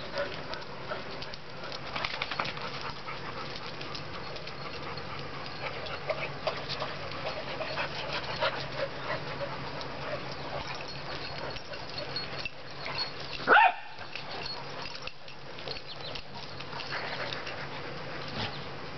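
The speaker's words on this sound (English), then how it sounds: "Good dogs." Dogs move about and pant quietly outdoors, soft breathing and rustling under a constant buzz of insects, with one sharp brief whine or squeak partway through.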